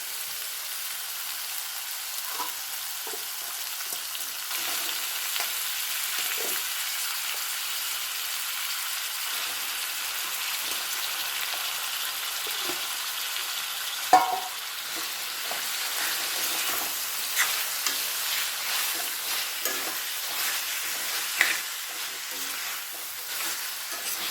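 Mutton sizzles steadily in a hot pan for a mutton curry, a continuous frying hiss broken by occasional scraping knocks from stirring, close and alone.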